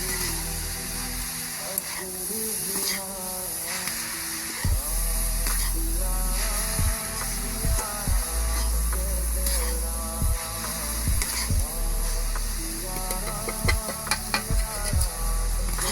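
A spoon stirring a kheer mixture in a pan on the stove, repeated scraping strokes at an irregular rhythm over a soft steady hiss, close and moderately quiet.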